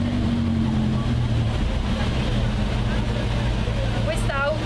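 A historic rally car leaves the start at the Ruota d'Oro Storica in Cuneo, its engine running steadily and pulling away while an announcer talks over it on a public address system.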